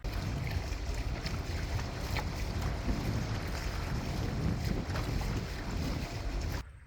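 A sailboat moves slowly through the water in light wind en route to Santiago Bay, giving a steady broadband rush of wind and water noise with no talk.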